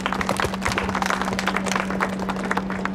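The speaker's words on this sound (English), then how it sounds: "give a round of applause for Kamisha." Applause from a gathered crowd at an outdoor flag raising, steady dense clapping spread across the moment, with a constant low hum running underneath.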